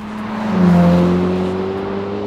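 A turbocharged Ferrari F8 Spider engine revs up under acceleration, a loud, close drone that rises in pitch and swells before easing slightly, with no voices.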